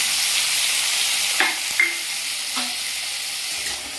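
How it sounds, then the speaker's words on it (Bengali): Chopped onions dropped into hot oil in a wok seasoned with asafoetida and cumin seeds, a constant bright sizzle with a few clinks of a spatula, close and without speech. "এরপরে কুচনো পেঁয়াজগুলো দিয়ে দিচ্ছি।"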